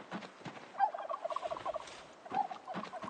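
Turkeys in Project Zomboid gobble in quick rattling bursts, one long run in the middle and shorter calls at the end, fairly close and clear with no talk.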